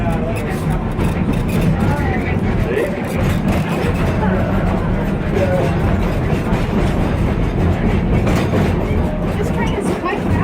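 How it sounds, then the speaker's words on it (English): A ride-on train runs in steady, loud rumbling clatter throughout, with people talking over the continuous rolling noise. "This train is quite fascinating."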